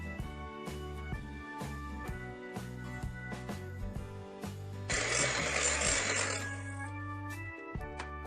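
Electric beater whirring in a bowl of vanilla sponge cake batter with sunflower oil, a steady motor hum with rhythmic clicking, swelling briefly into a louder, brighter whirr midway.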